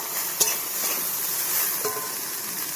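Shrimp frying in a pan on a home stove: a steady, close sizzle runs throughout, with a couple of brief clinks of a utensil against the pan.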